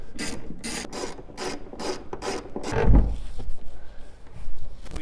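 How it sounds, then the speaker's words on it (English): A ratchet clicks in rapid, rhythmic bursts while loosening 14 mm seat bracket bolts in a Hyundai Venue, then a dull knock follows and low handling noises continue. "pull the four 14 millimeter bolts from the seat bracket"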